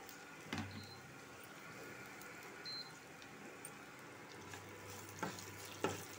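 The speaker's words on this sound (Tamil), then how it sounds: "அடுத்தது பார்த்தீங்கன்னாக்கா இஞ்சி பூண்டு, இது கொஞ்சம் நல்லா செவக்கட்டும்" Ginger and garlic fry quietly in a pan, a soft continuous sizzle with a few stirring clinks and scrapes, close but low in level, no voices.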